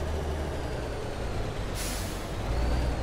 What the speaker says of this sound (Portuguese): Deixa eu parar o caminhão fora da estrada